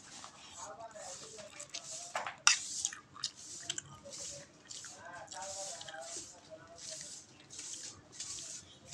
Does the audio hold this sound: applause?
no